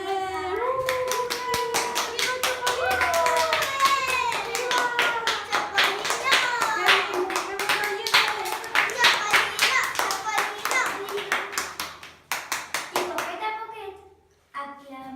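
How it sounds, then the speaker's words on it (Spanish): Children clapping at a school: steady rhythmic clapping across most of the passage, with a voice or singing running over it before it fades to a few last claps. "Todos al ver la acción de Chopolino empezaron a aplaudir."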